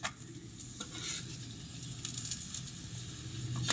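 A homemade carrot paratha fries on a griddle with a steady, soft sizzling hiss, and faint clinks and scrapes from turning the flatbread sound over it.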